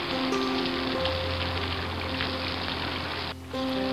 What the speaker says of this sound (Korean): 주룩주룩 빗소리를 들으면서